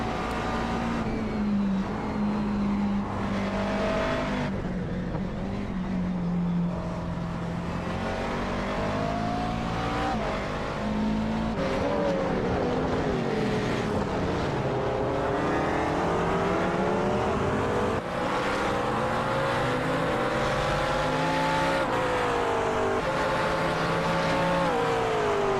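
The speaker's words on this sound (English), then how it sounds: "And Brian Carey going to lead a lap in GT3" GT3 race cars lapping Sonoma in a racing video game, engines droning and shifting pitch steadily as they rev up and down through the corners, loud and continuous with several cars together and no talk.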